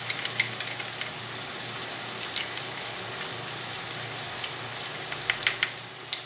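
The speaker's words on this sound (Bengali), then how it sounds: "এইবার মশলাটা আমি এই দেখুন জল দিয়ে একটু গুলিয়ে নিচ্ছি।" Spice paste mixed with water is stirred in a cooking pot for a taro curry, giving a soft steady sizzling wash with light scraping clicks from the spoon, close and unbroken by talk.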